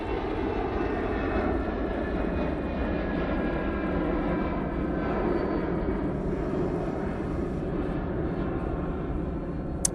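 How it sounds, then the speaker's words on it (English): A Lufthansa airliner departing Manchester Airport for Frankfurt, a loud sustained engine roar with a faint tonal whine, steady and fairly close throughout, with no speech. "Lufthansa going off to Frankfurt"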